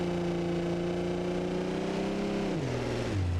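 Porsche GT3 RS race car in a racing video game mod, its engine holding a loud, steady high rev with strong harmonic tone, then dropping sharply in pitch through shifts near the end.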